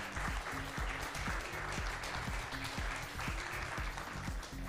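Applause from the audience at a Classic Tetris World Championship event in Cologne, steady and dense throughout, under a loud rhythmic thumping music beat.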